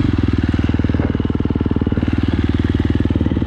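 A 2017 KTM XC-F 350 dirt bike engine runs loud and close with a fast, even, throbbing pulse that holds steady throughout, and no voices are heard.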